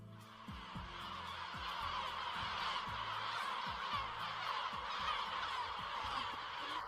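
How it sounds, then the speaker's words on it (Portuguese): Yellow-legged gulls on the Rock of Gibraltar give harsh, raucous calls, many birds overlapping in a continuous strident chorus, some cries close and loud. "O canto deles, estridente e rouco, amplificado pelo número de exemplares presentes, é realmente impressionante."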